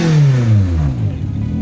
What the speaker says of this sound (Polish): silnik ma tak jak Punto, więc daje radę. Właśnie teraz ten silnik słyszymy.